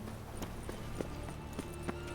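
Hooves of a horse clip-clopping down a staircase in The Witcher 3, a handful of sharp irregular knocks over a steady low hum of game ambience, with faint speech in the background.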